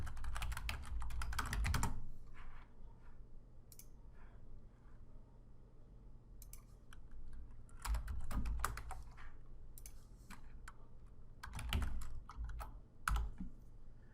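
Typing on a computer keyboard comes in several quick bursts of close, crisp key clicks, separated by short quiet gaps, with no voices.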